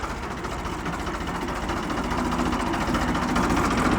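A Ford 3600 tractor engine running, a steady close diesel chug with a rhythmic knock that grows slightly louder over a few seconds, with no talking.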